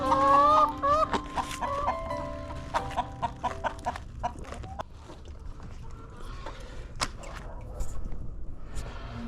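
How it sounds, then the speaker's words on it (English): Backyard chickens cluck and squawk near a raised-bed garden, several birds calling in a busy, overlapping run that is loudest at first and then settles into scattered short clucks. "collards for the chickens"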